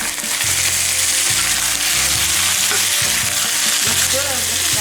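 Sausage frying with onion and garlic in a pan, a steady loud sizzle running throughout while a utensil stirs and scrapes the mixture in repeated strokes.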